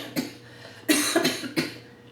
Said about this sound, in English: And I apologize for the coughing.